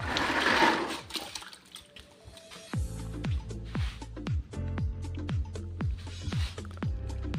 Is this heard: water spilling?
yes